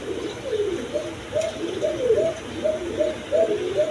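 American Lakha pigeons in a loft coo in a soft, repeated rhythm, with several close, overlapping calls rolling on without pause.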